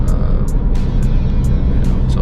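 Nissan 350Z driving with a steady, loud low rumble of engine and road noise throughout, broadband and continuous with faint periodic high ticks overhead; no clear speech.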